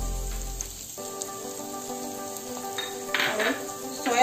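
Vegetables sizzle softly in a pan, a continuous low frying hiss with a steady hum behind it and a few scraping clatters toward the end.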